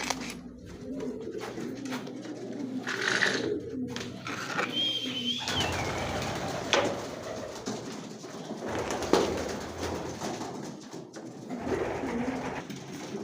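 Several pigeons coo in soft, repeated rumbling calls, fairly near, mixed with flutters and light shuffling and other faint background sounds.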